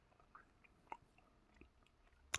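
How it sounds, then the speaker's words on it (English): A person chewing gum close to the mic, quiet scattered wet smacks and clicks at an irregular rhythm, ending in a louder crackle. "Patricia loves chewing her gum."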